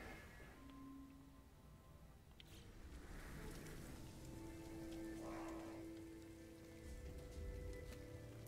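Steady patter of toxic drizzle falling in the video game No Man's Sky, a soft continuous rain hiss holding at an even level, with faint game tones and an occasional low rumble underneath.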